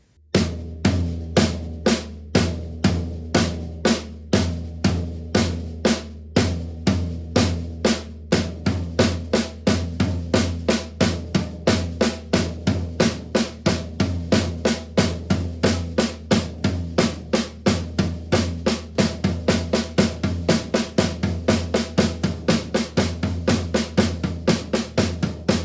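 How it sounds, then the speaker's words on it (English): Flam taps on a floor tom and snare drum, played as a steady, evenly spaced stream of crisp drum strokes that runs for about half a minute with no talking. "I'm going to use the floor tom and the snare drum."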